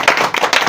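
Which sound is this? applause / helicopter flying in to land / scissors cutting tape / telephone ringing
applause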